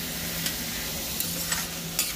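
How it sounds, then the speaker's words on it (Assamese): Four eggs fry in a pan with a steady, moderately loud sizzle and crackle, a few sharper spits and the scrape of stirring over the constant hiss, no talking. "ভাজি আছোঁ নন ষ্টপ এতিয়া ভাজি"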